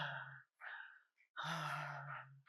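A voice imitates the expiratory breathing sound of a lower airway obstruction, a wheeze-like exhalation: two short breaths followed by a longer, louder, rasping breath out, close and clear with no talking.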